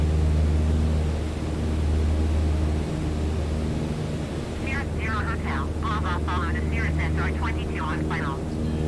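Light aircraft engine droning steadily in flight in Microsoft Flight Simulator 2020, a Cessna-type single-engine plane throttled back to about 2300 RPM, with a low continuous hum and hiss; a voice talks over it midway.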